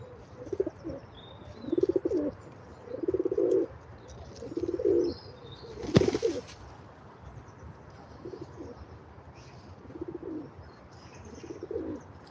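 Pigeons coo in a slow, regular series of low, soft calls close by, with a single sharp burst partway through and faint chirps above.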